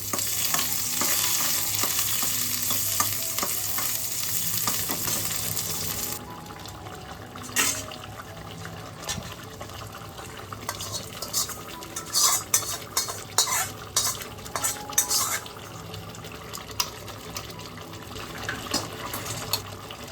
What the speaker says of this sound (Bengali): ঘিয়েতে এবার হিং ফোড়ন দিয়ে দিলাম, সেই সঙ্গে চেরা কাঁচা লঙ্কা।